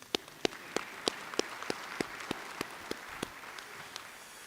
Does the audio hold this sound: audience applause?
yes